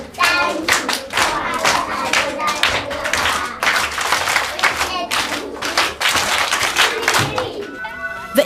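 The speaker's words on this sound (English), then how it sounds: "Clap for her." A classroom of about sixty pupils in a remote Kaduna school clapping together for a classmate, sharp rhythmic bursts of hand claps in quick unison patterns, loud and close, pausing briefly before a final flurry.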